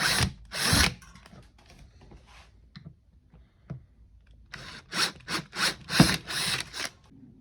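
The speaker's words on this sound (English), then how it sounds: "Using a 7/32 drill bit, you want to enlarge these holes." Power drill fitted with a 7/32 bit widening holes in a Milwaukee Packout trolley case, several short loud bursts of drilling near the start and a rapid run of repeated bursts toward the end, close and with no talk.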